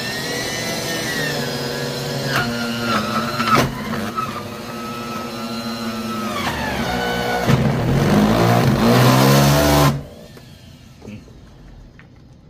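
A powerful electric juicer runs loud and close for about ten seconds, its motor whining and shifting in pitch under load as produce is fed through, then it cuts off abruptly to near silence.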